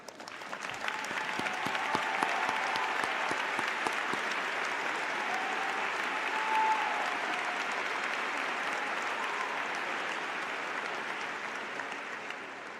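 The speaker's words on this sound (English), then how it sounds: "show their appreciation with a big round of applause to thank you for all you've done" A large graduation crowd at Bridgeland High School gives a sustained round of applause for faculty, thick and continuous, swelling slightly in the middle before tapering near the end.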